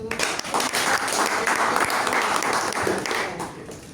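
An audience at a Toastmasters club meeting in Dubai applauds in a steady, dense wash of clapping that holds for several seconds, then tapers slightly, with little talk beneath it.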